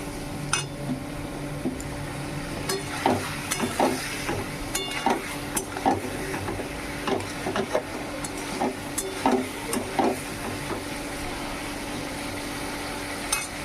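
Spice masala frying with added water in a pan, a steady soft sizzle broken by repeated clinking stirs of a utensil against the pan, close and without talk.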